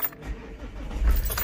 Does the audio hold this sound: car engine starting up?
yes